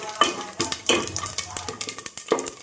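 Whole spices (cinnamon, cloves, shahi jeera and cumin) fry in oil for a village-style chicken curry, a soft sizzle under repeated close clatters and scrapes of a spoon against the pan.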